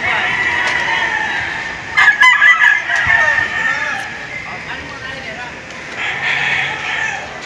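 Roosters crow repeatedly inside a gamecock house in Lubao, Pampanga, with several overlapping calls near and farther off, while people talk throughout.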